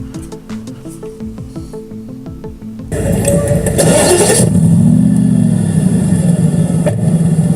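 A car engine sound effect turns over and revs into a loud, steady driving-off roar, coming in abruptly after a few seconds of soft tonal notes.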